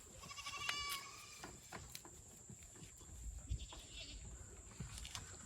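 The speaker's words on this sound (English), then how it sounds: "There's our sheep." Sheep bleating on a family farm, a few short calls early on against steady outdoor background noise with faint insect buzz and occasional knocks.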